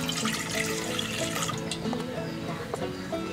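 Water poured from a cup into a pan on the stove while making adhirasam, a soft continuous trickle and splash, moderately quiet and close, with faint background clatter and no speech.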